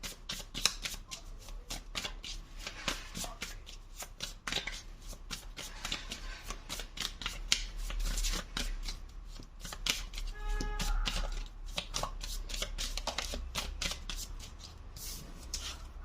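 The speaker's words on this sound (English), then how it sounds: "these cards are so hard to shuffle." Tarot cards are shuffled continuously, a rapid stream of crisp riffling snaps and soft slaps, close and steady throughout.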